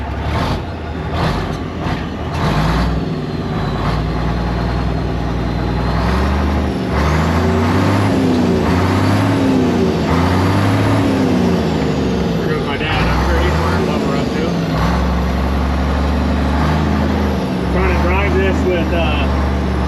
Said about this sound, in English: But really running. That motor sounds good.